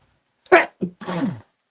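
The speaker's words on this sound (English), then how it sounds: "So I got to sneeze again." A single sharp sneeze bursts out, followed by a short breathy sound and a trailing vocal exhale.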